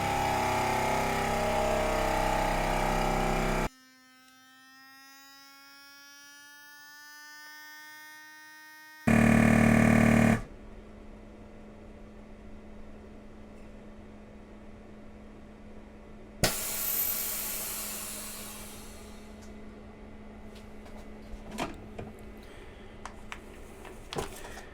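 A chamber vacuum sealer runs a cycle on a bag for sous vide frozen salmon fillets, giving a steady pump drone and hiss with a loud mechanical burst partway through, then a lower hum and a sharp clunk as the seal bar closes.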